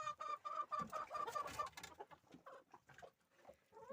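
A rooster on a small farmyard crows loudly nearby at morning feeding time, a long rising-and-held call in the first two seconds, followed by softer clucking and farm noises.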